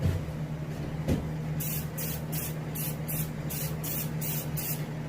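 An airbrush or spray gun hisses in about eight short, evenly spaced bursts while paint is applied lightly to the fins of a striped bass mount, close and crisp over a low steady background hum.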